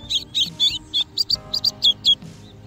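A red-cowled cardinal gives about ten sharp, high chirping calls in a quick, steady series, close by and clear.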